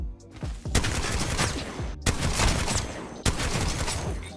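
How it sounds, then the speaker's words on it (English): Three heavy shotgun blasts from the Mastiff in the video game Apex Legends, each a loud booming burst with a long reverberant tail, spaced about a second and a quarter apart. "All you have to do is spam inspect weapon and shoot"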